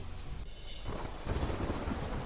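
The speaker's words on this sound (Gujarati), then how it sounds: "ધોધમાર વરસાદથી ગામની ગલીઓ નદીમાં ફેરવાઈ" Heavy monsoon downpour floods the village streets of Mangvana in Kutch, Gujarat: a loud, dense, unbroken roar of rain with deep rumbling underneath, no voices.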